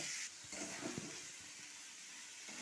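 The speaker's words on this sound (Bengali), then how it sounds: "আলুগুলো দিয়ে একটু ভালো করে মশলার সঙ্গে কষিয়ে নেব" Boiled small potatoes sautéing with spices in a pan for alur dum, a soft continuous sizzle with a faint clink and stir or two, close but quiet, with no talking.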